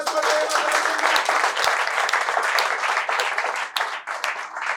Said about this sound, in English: Everybody give a huge round of applause for them.